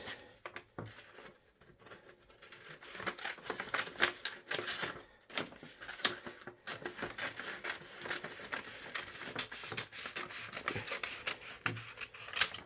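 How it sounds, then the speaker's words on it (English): Scissors cutting along folded paper to make strips for handmade branded paper carrier bags, a steady close rasping and crisp snipping that runs almost continuously, with a brief pause early on and no talking. "I'm going to cut along each of the folds to make the individual strips"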